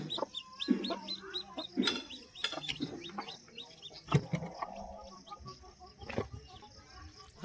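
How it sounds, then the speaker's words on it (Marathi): Free-range village hens in a backyard poultry setup cluck and chirp in quick repeated bursts, fairly near, with rustling and faint voices in the background. "आता इकडे हा एक कोंबडी आहे"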